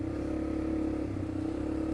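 A motorcycle set up for torque runs steadily while riding on Mt Mayon, a continuous low engine drone with a rough rumble, close and constant throughout.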